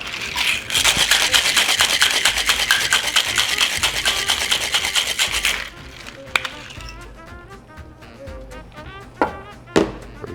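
A cocktail shaker full of ice is shaken hard for a Gimlet, a loud rapid rattling of cubes for about five seconds, followed by a few softer clinks and knocks as it settles.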